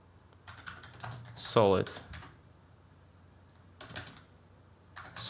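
Typing on a computer keyboard: short bursts of key clicks, one louder clattering run near the start, mixed with someone talking.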